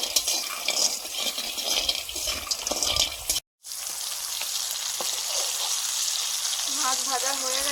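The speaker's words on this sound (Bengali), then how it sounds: "বড়িগুলো ভেজে নিচ্ছি।" Masoor dal bori, small dried lentil dumplings, hiss and sizzle in a hot kadai with steady frying noise broken by a brief silence, with occasional stirring and a faint warbling tone at the end.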